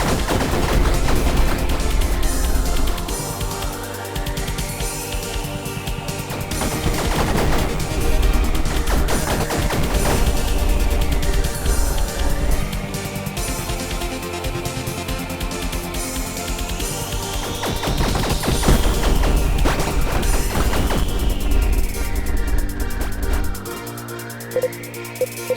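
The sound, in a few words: spaceship weapons firing in the video game Fission Superstar X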